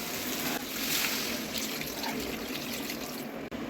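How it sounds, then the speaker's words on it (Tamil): Water poured into a pan of chicken head and leg curry, a continuous close splashing gush that holds steady throughout before a brief cut near the end. "இப்போ தலைக்கால் வேகிற அளவுக்கு தண்ணி சேர்த்துக்கிறேன்."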